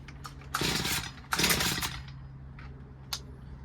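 An old two-stroke petrol hedge trimmer, an HS45, revs up in two loud bursts of buzzing engine noise, idling unevenly between them, with a few brief sharper sounds nearby.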